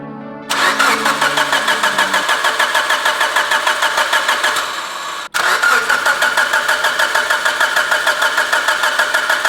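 A Mitsubishi Evo's engine cranks on its first start attempt without catching: a loud, close, steady whirring churn with a regular pulsing rhythm, a brief pause, then more cranking.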